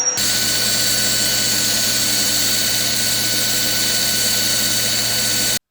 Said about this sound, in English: I have now ground them down and they are ready for threading